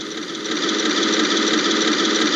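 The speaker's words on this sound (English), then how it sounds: "I hate having to talk over the engine sound" A small motor in a 1/16 scale Tamiya RC Jagdpanther tank model runs continuously nearby, a steady buzzing whine with a faint rattling texture and no change in pace.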